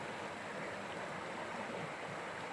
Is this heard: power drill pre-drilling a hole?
no